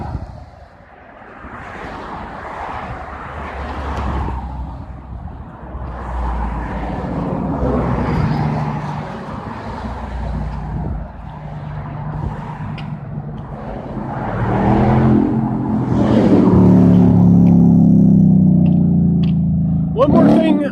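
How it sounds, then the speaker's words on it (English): Cars pass by outside, a low rumbling swell that grows louder toward the end, with a person talking over it. "waiting for these cars to pass because they annoy me"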